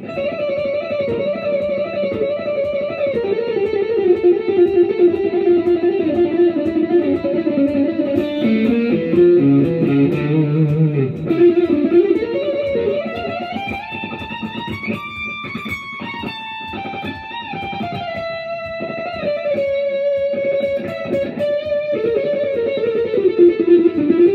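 An electric guitar through an MXR Distortion+ pedal with distortion at maximum plays sustained, heavily distorted notes and sliding bends, fuzzy and saturated, continuing alone for the whole stretch at steady loudness.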